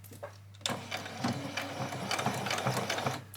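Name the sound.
sewing machine doing a back stitch on an apron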